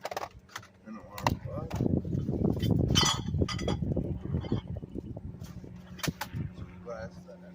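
Glass pieces clinking and clattering as an item put out by the road is torn down, with scattered sharp clinks over rustling handling noise and someone talking throughout.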